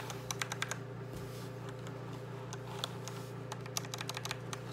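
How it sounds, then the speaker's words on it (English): Mechanical keyboard with Cherry MX Red switches, a SteelSeries Apex 7 TKL, clicks through scattered escape-key presses in irregular bursts over a steady electrical hum and hiss. "Escape key."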